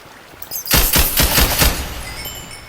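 A rapid burst of about six gunshots cracks out loudly in the blocky survival game Minecraft, then the noise fades into a quieter background.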